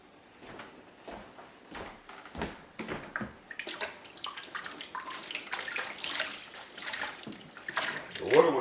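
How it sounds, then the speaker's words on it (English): Plenty of water is poured and splashed over a flour-caked kitchen bench after making gnocchi, starting as sparse splashes and swelling into a louder, steadier gushing wash close by. "the trick is just to put plenty of water on it"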